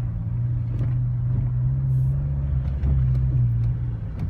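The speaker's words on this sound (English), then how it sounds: "Alright, so we're driving the Celica." A Toyota Celica drives along with a steady low engine drone and road rumble inside the cabin, continuous and fairly loud with no talking.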